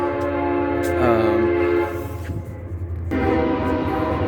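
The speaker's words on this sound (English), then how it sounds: "that was a train that came by" A train rolls past close by, its horn sounding in long sustained blasts over a steady rumble of wheels and rail cars that carries on through the clip.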